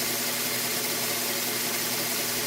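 A BUCKTOOL 2x42 belt sander motor runs at its slowest speed, giving a steady, continuous hum with broad whirring noise throughout and no pauses or talk.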